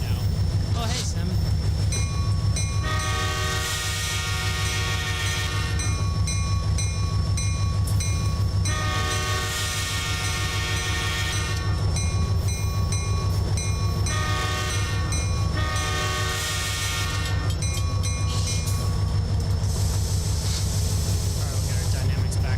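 A long freight train in Train Simulator rumbles steadily throughout, with repeated horn blasts sounding in several long stretches over the constant engine drone.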